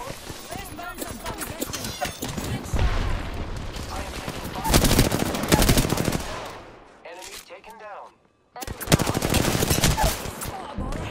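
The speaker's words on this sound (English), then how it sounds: "I am taking fire." Rapid video-game gunfire rattles in dense automatic bursts, loud and close, with a brief lull near the end before the shooting resumes; a player's voice talks over the action.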